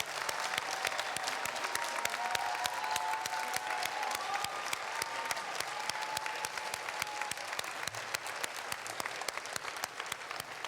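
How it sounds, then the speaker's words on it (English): A long round of audience applause for a performer named Doretta as she readies an encore, steady crowded clapping sustained throughout, with a faint melodic tone drifting underneath. "a long applause to Doretta"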